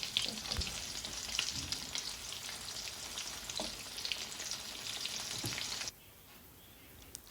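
Steady, crackling sizzle of fish nuggets frying in hot oil, close and fairly loud with scattered pops, then dropping abruptly to a quieter hiss near the end.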